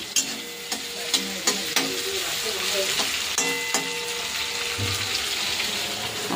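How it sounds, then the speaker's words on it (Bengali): Prawns fry in a pan on a home kitchen stove with a constant loud sizzle, broken by sharp clinks and scrapes of stirring and some running water. "এখানে চিংড়ি মাছ ভাজা করে নিচ্ছে"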